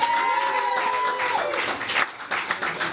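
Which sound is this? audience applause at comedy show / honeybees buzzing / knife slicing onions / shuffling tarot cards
audience applause at comedy show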